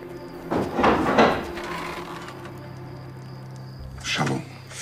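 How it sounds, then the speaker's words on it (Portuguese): A wooden door creaks and thumps open in a quiet indoor room, with a couple of short knocking-like bursts early on and another brief rattle near the end, no talking. "Pode abrir a porta, Lázaro."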